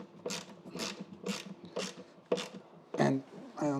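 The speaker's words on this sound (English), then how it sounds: "I'm just gonna bolt these screws in there" Screws being driven into a budget production cart, a run of about six evenly spaced ratcheting, grinding bursts close up, with a heavier rattle toward the end.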